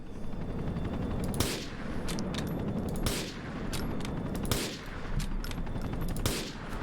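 Gunfire in the video game Grand Theft Auto: The Lost and Damned, heard as a run of loud, sharp shots in quick bursts over a continuous background roar, with no talk.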